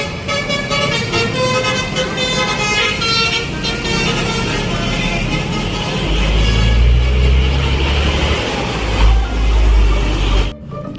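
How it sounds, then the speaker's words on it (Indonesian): A toy bus telolet plays a loud, steady tone with layered musical horn toots, with a deeper engine rumble coming in over the second half before it cuts off abruptly at the end. "Yang ini mobil bus telolet."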